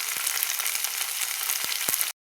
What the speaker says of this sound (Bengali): যে বরবটিটা ভাজা হয়ে গেছে